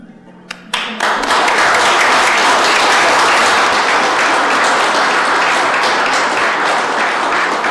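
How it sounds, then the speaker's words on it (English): Sustained audience applause fills a city council meeting chamber, starting after a brief quiet moment and holding steady at a loud, dense level of many hands clapping. "I would really like for you guys to get a round of applause"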